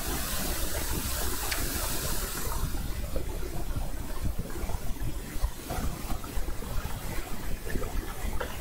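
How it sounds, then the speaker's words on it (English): A computer picked up by a nearby microphone gives off a constant broad hiss and hum, steady and fairly quiet throughout, with no speech. "You can hear my computer."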